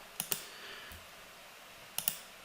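Several crisp clicks sound from a computer keyboard and mouse during 3D modeling work in Blender, two quick pairs of taps separated by a quiet gap, close and alone.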